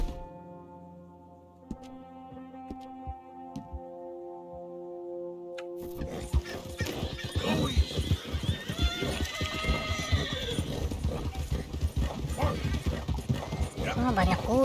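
Many horses in Red Dead Redemption 2 clip-clop and whinny in a dense, busy mix of hooves and neighs after a quieter opening, with talk over it.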